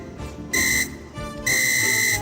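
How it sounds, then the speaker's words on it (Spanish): A referee's whistle gives two loud, shrill blasts. The first is short, and the second is longer, with a brief gap between them over a faint background. "Ahí está el árbitro dando el silbatazo final de este video"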